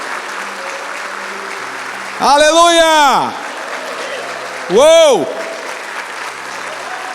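A church congregation bursts into two short rounds of loud applause with cheering, each lasting a second or so, while a preacher speaks and exclaims in between.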